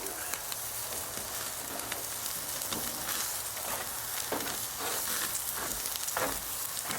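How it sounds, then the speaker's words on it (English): Steady crackling sizzle of prime rib cooking over a hot charcoal barbecue grill, continuous and close, with occasional louder pops and no talking. "Nothing better than the sound of meat sizzling on the barbecue."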